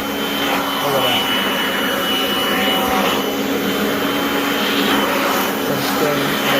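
Kirby Avalir 2 vacuum cleaner running continuously with a steady, loud whining roar, close by and unbroken throughout.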